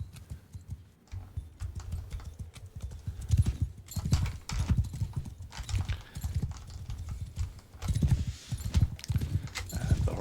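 Horses gallop across a medieval battlefield in Bannerlord, their hooves clattering in dense, irregular clip-clop bursts that rise and fall, with an occasional whinny in the mix.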